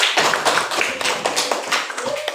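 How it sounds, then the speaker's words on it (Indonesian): A group claps together in a fast, steady run of sharp hand claps, lively and continuous throughout. "Tepuk tangan"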